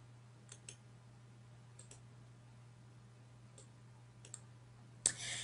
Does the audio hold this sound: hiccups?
no